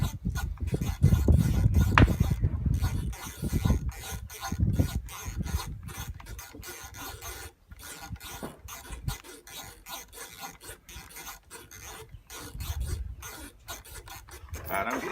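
The turrets of an IOR Valdada TX Raider 3-25x50 FFP rifle scope are turned vigorously, giving a close, rapid run of ratcheting clicks and rasping scrapes, heaviest at the start and near the end.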